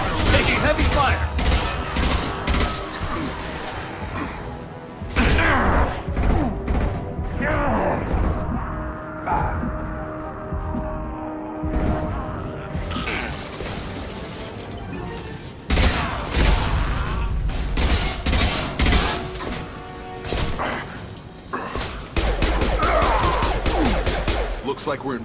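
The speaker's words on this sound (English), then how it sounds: "taking heavy fire!" Firefight in Mass Effect 2 on Omega: bursts of rapid gunfire and heavy blasts, loud and close, with lulls between volleys and voices calling out amid the shooting.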